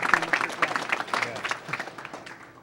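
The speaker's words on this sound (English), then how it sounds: "We're going to clap for everyone here." Audience applause and clapping at a live speedrun charity event, a dense patter of many hands filling the short moment, with some voices mixed in.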